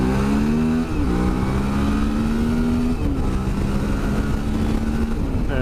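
A 2018 Suzuki V-Strom 650 XT motorcycle accelerates hard onto a motorway slip road, its engine droning loud and close as it climbs through gears with brief dips at each shift, alone without talk.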